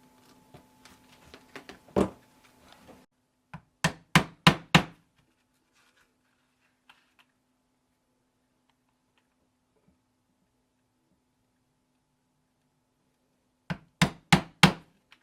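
Stitching irons are hammered into leather to punch stitch lines for a wallet, a close series of sharp, evenly spaced taps in two clusters of about four or five blows, separated by a quiet stretch.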